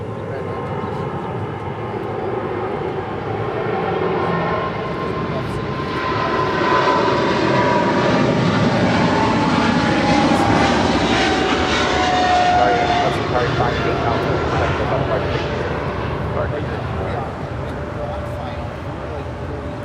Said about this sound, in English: it's Qatar Cargo 58 Alpha departing to Liège on a 777 freighter